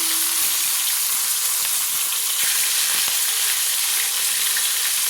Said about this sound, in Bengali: মাছগুলো লাল লাল করে ভাজা হয়ে গেছে, এবার আমি দেখুন উল্টে দেখাচ্ছি।